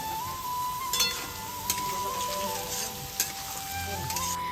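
Potatoes fry in hot oil in a home kitchen, a steady close sizzle with occasional clinks and scrapes of a spatula stirring the pan, no voices.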